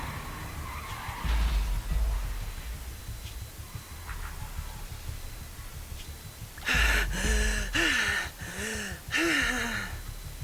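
Tires skid and screech in a tense vehicle swerve to avoid a truck in the Zenless Zone Zero video game, a loud burst of several squealing bursts after quieter engine rumble, with no talk.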